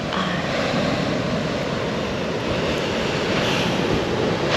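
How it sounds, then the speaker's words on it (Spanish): Ocean waves wash continuously at a beach near Todos Santos, Baja California Sur, at sunset. The surf is a steady, broadband roar with gentle swells and a little wind noise, and nobody speaks. "solo se escuchan de fondo las olas"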